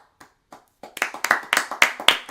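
A few hesitant single claps at the start build into a quick, close run of sharp, loud hand claps from a small group, with no speech over them.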